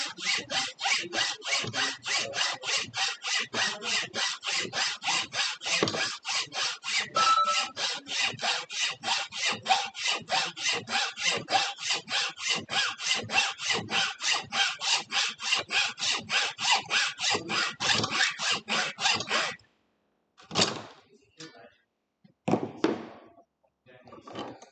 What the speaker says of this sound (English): But this setup allows you to do it via hacksaw. So now this is how you just cut through.